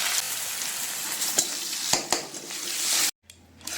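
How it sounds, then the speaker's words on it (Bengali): Steamed potato frying in oil with salt and turmeric gives a loud, continuous close-up sizzle, broken by a few sharp utensil scrapes, then cuts off abruptly near the end. "এই আলুটা একটু নুন হলুদ দিয়ে ভেজে নেব।"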